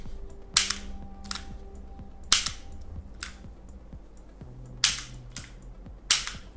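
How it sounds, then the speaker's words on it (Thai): A metal Colt Python replica revolver firing plastic BBs is cocked and shot single-action: sharp cap-gun-like cracks come at uneven intervals, each with a faint mechanical click of the hammer in between, close and loud. "หรือเราสามารถยิงแบบซิงเกิลแอคชั่นได้เหมือนกันโดยการลังนกลงมาก่อนนะครับ"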